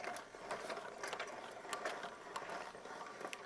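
Ratchet mechanism of a Proline Lift King bed lift being cranked by hand, a quick run of dry metallic clicks from the pawl at a steady rhythm, close and clear with no talking.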